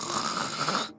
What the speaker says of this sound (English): Honey, stop with the snoring. It's too loud.